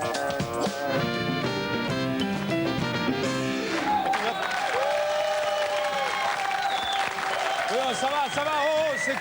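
Studio audience applause on a French TV comedy show, a steady dense patter sustained throughout at moderate loudness, with music and a voice heard over it.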